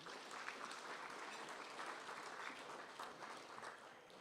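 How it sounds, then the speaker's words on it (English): Steady, dense applause from an audience at a football-netball league awards night, sustained evenly at moderate distance without a break. "applause, thank you"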